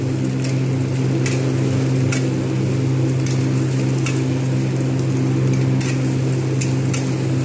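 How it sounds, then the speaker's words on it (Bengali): Chopped capsicum and softened onions fry in a pan for dhaba-style paneer bhurji, giving a steady, close sizzle with faint intermittent ticks and crackles, and no talking. "এটাও একটুখানি ভালো করে ভেজে নেবো"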